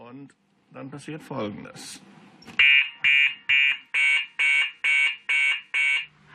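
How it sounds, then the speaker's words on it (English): An electronic fire alarm sounds in eight loud, evenly spaced beeps after a few seconds of talking and clatter. "the alarm has a function, the siren goes on"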